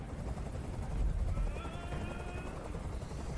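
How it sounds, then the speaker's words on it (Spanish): A helicopter hovers nearby in the video game Detroit: Become Human, its rotors making a loud, steady, dense throbbing roar that fills the whole moment without a break. "¡Dile a ese helicóptero que se vaya de aquí!"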